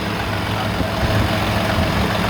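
A heavy semi truck diesel engine idling loudly nearby, a steady low rumble with even throbbing, running continuously.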